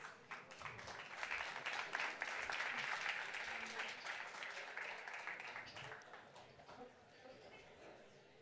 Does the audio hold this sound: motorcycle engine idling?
no